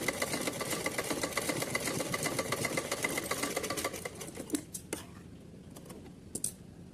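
A sewing machine stitching a small summer dress, a fast steady mechanical whirr of rapid needle strokes running for about four seconds before stopping, followed by a few faint clicks.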